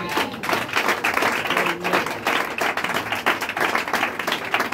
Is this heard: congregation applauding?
yes